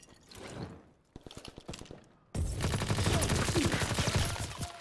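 A grenade explosion and rapid gunfire in Call of Duty WWII: a few scattered shots come first, then a sudden loud blast leads into dense, continuous automatic fire.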